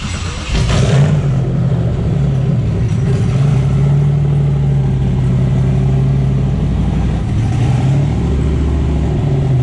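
A turbocharged Toyota Supra runs on a hub dyno, its engine droning loud and steady at a mid pitch for the whole stretch, with a gentle swell in revs rather than sharp bursts.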